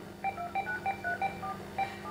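Telephone keypad dialing tones in a Cantonese student radio drama, a quick run of about ten short, crisp beeps at a steady pace, clear and close with no talking over them.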